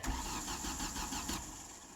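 A broken-down Mystique car's engine cranks with a rapid, even churning rhythm that keeps going without catching, steady and fairly loud throughout.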